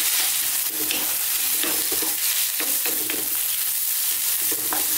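Celery and mixed vegetables stir-fried over lively heat for vegan cauliflower fried rice: a loud, continuous sizzle broken by repeated scraping strokes and clattering tosses of the pan.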